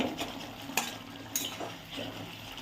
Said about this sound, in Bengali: মশলাটা একটু কষানো হোক